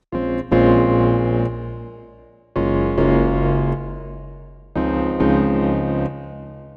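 Three long electric piano chords through a video game hall reverb plugin, with a broad, lingering reverb that smears each note as it fades; no talking.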